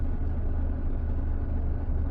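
Loaded trucks carrying wind turbine parts crawl slowly away at around walking pace, giving a steady low engine rumble and broad road noise that holds evenly throughout, with no talk.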